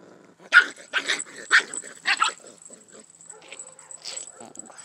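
Puppies barking and yelping in short bursts, several sharp barks close by in quick succession, then fainter whimpers and growls trailing off.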